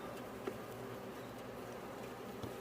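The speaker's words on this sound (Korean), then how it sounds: "와, 말벌 오늘 진짜 많이 들어왔습니다." Faint, steady buzzing of hornets swarming close by around a beehive, a continuous insect drone with occasional louder passes.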